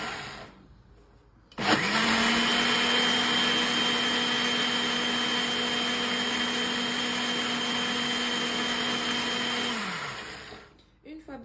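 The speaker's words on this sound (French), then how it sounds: "Voilà, on lance le mixeur." An electric blender mixing Moroccan crêpe batter made with baker's yeast starts abruptly and runs as a loud, steady whirring drone for about eight seconds before winding down, close and without talk.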